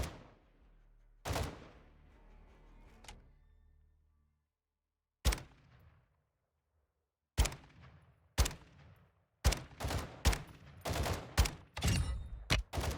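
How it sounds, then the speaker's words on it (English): Video game gunfire crackles in sharp, separate shots, first sparse with long gaps, then in quicker clustered bursts toward the end, loud and close with no talk over it. "they're shooting down there"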